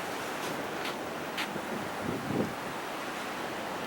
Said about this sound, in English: Today is really windy.